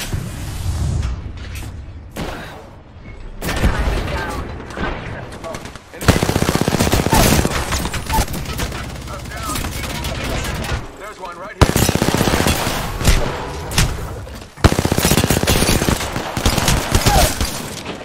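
Rapid automatic gunfire from the Apex Legends battle royale video game, loud and close, coming in dense, sustained bursts broken by brief pauses, with occasional heavier impacts mixed in.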